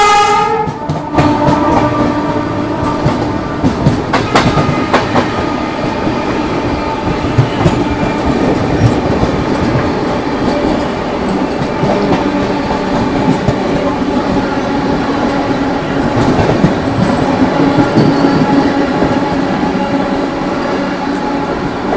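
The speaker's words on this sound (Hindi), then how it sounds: "ये थी भाई साहब अपनी नेताजी एक्सप्रेस" The Netaji Express, running from Howrah to Kalka, rolls past close by with a sustained loud roar and rhythmic clatter of wheels over rail joints, opening with a sharp horn burst.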